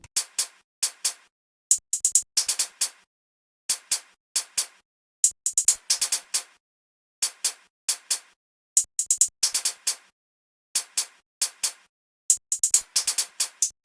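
Crisp, bright hi-hat ticks in a fast, repeating pattern for a Sosocamo-style beat, two interlocking hi-hat rhythms playing simultaneously, trading quick bursts and rolls, alone and steady throughout.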